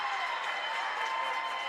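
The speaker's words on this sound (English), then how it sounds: "Listen to the roar of the crowd" Crowd at a women's college volleyball match hosting Albion College, a sustained dense roar of applause and cheering from many spectators filling the gym, loud and steady throughout.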